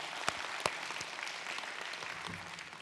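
An audience at a meditation forum applauds, a broad, fairly distant patter of clapping with a few sharper individual claps standing out near the start.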